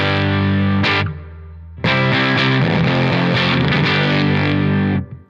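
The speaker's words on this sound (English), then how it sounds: "So here's that first channel with the volume all the way up. Get some big, like, thick crunch tones on it." Thick, heavily distorted electric guitar crunch through a Blackstar St. James amp on its first channel with the volume fully up, loud and sustained with chords ringing for about a second, a short pause, then a dense strummed passage alone.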